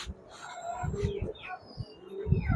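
A Pakistani high flyer pigeon coos up close in a series of soft, low, throaty pulses. The coos come in repeated rolling phrases with short gaps between them.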